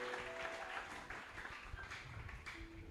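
A church congregation claps and cheers during Sunday worship, a dense, continuous wash of applause with scattered voices and whistle-like tones mixed in, steady throughout.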